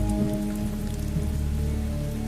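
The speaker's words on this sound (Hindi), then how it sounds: "यह बारिश देख रहा है। ऐसा लग रहा है जैसे आज प्रलय आएगी" Heavy night rain pours steadily onto surfaces outside a shop, a dense even hiss beneath a low tonal hum, with no voices.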